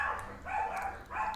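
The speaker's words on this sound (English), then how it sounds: "Probably heard next door's dog there." A neighbour's dog barks next door in a few short bursts, muffled and somewhat distant, as if heard through a wall.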